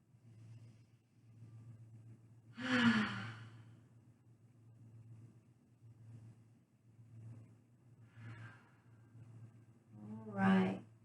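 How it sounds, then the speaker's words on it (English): Slow, deep breaths taken during a yoga session while lying with knees dropped to one side, two or three audible exhales spaced several seconds apart over a low, quiet background hum. "Couple big breaths here."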